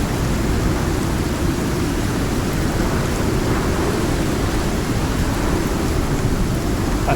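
A thunderstorm with pouring rain in the video game Stockpile, a thick, unbroken rumble and hiss of rain holding steady and loud from start to finish.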